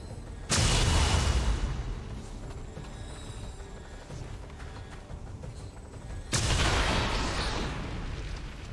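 Two heavy gunshot blasts from the video game XCOM 2 boom several seconds apart, each with a long, rumbling decay into background game ambience.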